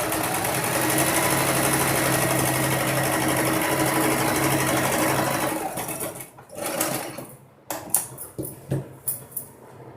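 A sewing machine stitches a single-pleat nighty, running in a steady, loud, continuous whir for over five seconds, then breaking into short stop-start bursts with small clicks and handling noises between them.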